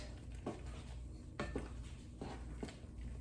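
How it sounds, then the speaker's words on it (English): Chicken and dumplings stirred in a pot, with a spoon clinking and scraping against the metal a few times at an unhurried pace, quiet and close over a soft background hum. "now you just need to give them a stir"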